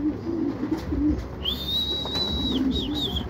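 Wet racing pigeons returning home in the rain at a loft in Pozzorubio, Pangasinan: low, soft cooing pulses come and go, with a thin, high, sustained whistle midway over a steady background hiss.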